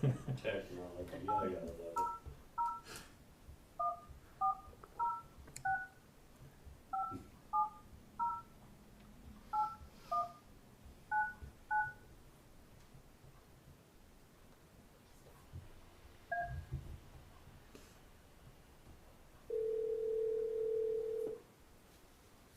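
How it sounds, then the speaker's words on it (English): A telephone number is dialed on a keypad, a series of short DTMF beeps in quick clusters, followed after a pause by a steady ringing-like tone; faint room noise underneath. "Please dial a 1 when dialing this number."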